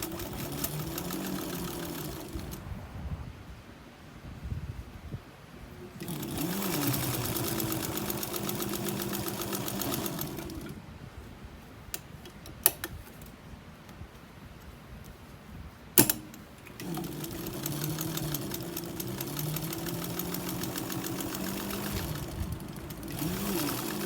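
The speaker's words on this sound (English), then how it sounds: "So now we sew everything together." An antique White Rotary 9002 sewing machine, about 120 years old, stitches in three steady whirring runs with pauses between, close and clear, with a few clicks during the quiet gaps.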